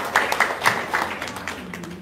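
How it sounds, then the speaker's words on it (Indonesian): Scattered hand claps from an audience at an RDAY seminar in Bogor, a few sharp claps over about two seconds mixed with murmuring voices. "Sep, tepuk tangan dong, luar biasa."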